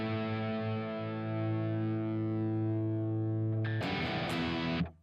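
An electric guitar rings out through a Harby Noble Tone overdrive pedal, a sustained chord held for several seconds with a gritty, distorted edge, then a burst of fresh strummed attacks near the end, with no one speaking.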